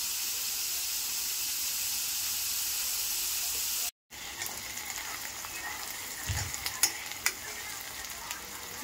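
Onions frying in a pan for prawn curry, a steady broadband sizzle and hiss with occasional stirring scrapes and clinks, briefly cut off partway through, then continuing close and moderately loud.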